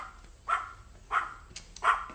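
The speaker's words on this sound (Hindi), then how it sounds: "कम से कम अपने कुत्ते का मुंह बंद तो करो।" A dog barks three times at steady intervals in a Hindi-dubbed Hollywood film scene, each bark moderately loud and fairly close, with a quiet indoor background between them.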